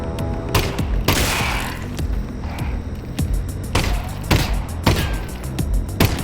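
Repeated gunshots in the VR game Half-Life: Alyx, about eight sharp cracks at irregular intervals over a steady low game ambience, close and loud with no talking.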